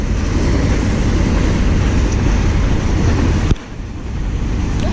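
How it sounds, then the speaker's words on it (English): A long Norfolk Southern intermodal freight train rolls past nearby, a loud steady rumble of wheels and cars that drops off sharply near the end, then continues more faintly. "We've seen 2 trains, both long intermodals."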